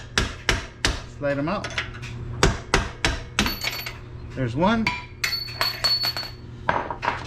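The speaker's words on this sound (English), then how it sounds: "get yourself a hammer" A hammer strikes car suspension parts during a Dodge Charger R/T lowering-spring install, several sharp metallic taps and clinks in uneven bursts, close and loud, with someone talking between the blows.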